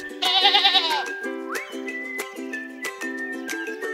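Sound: goats and sheep bleating on a farm

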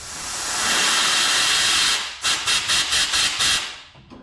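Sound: air and carb cleaner blown through a fuel line

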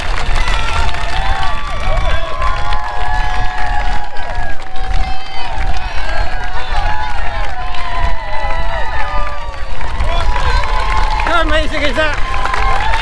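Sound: crowd cheering runners crossing the Tyne Bridge, Great North Run

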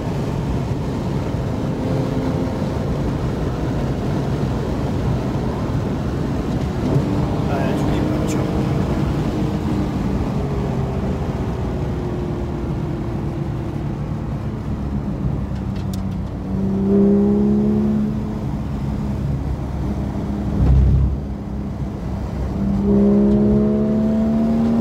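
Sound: Porsche GT3 accelerating down the Mistral straight on a racetrack

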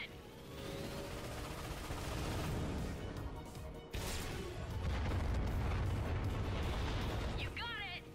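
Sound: missile explosions in Ratchet & Clank video game

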